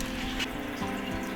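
Water pours and trickles into soil in a potted houseplant, a soft, quiet splashing with a few small gurgles, close by and without talk.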